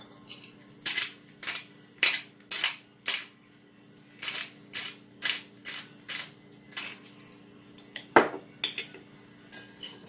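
A spoon stirs macaroni salad with seasonings in a bowl, producing a series of sharp clinks and scrapes in an uneven rhythm, close and clear with no talking.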